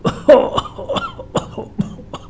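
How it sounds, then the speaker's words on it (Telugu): A man coughs repeatedly in a rough, uneven series of about half a dozen hacking bursts, close and fairly loud. "అప్పుడు దగ్గు కూడా వచ్చింది"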